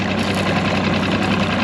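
Fishing boat motor idling while trolling for white bass, a steady, loud, continuous low rumble with a faint knocking pulse and no talk.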